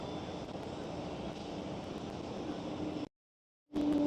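Low steady rumble of an airliner taxiing at Amsterdam Schiphol airport, heard from a distance with wind noise over the microphone, cutting out briefly to silence before resuming.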